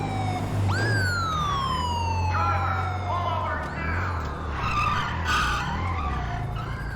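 A police siren wails in rising and falling sweeps while chasing the player in GTA 5, loud and close over tire skids and engine noise.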